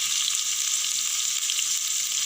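Tandoori chicken frying over a low flame gives off a steady, close hissing sizzle that stays even and continuous throughout.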